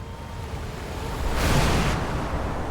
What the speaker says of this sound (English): That would explain the waves.